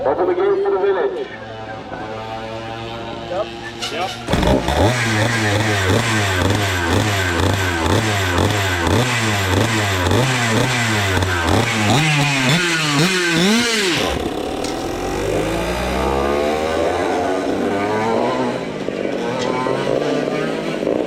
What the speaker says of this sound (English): start those engines.